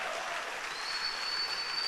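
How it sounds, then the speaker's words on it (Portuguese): A church congregation applauds in a sustained, dense burst of clapping that stays steady and fairly loud from start to finish, with no voices rising above it. "Se for para Jesus, pode dar um aplauso,"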